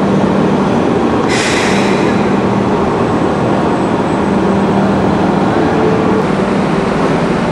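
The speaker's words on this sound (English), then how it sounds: "So now those locomotives are going to go back." Electric mule locomotives roll along the rails beside a Panama Canal lock, a loud, steady mechanical rumble and whine that fills the whole stretch, with a brief hissing burst early on.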